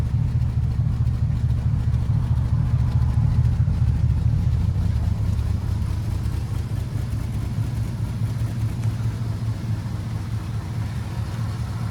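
A gasoline-fuelled 1950 Ford Deluxe Fordor police car idles steadily, its low, even engine rumble holding close and constant throughout with no voices.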